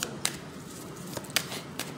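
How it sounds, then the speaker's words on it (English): Soft, papery riffling of a deck of tarot cards being shuffled, with a few quick crisp flutters in a quiet room. "we're just going to shuffle the cards"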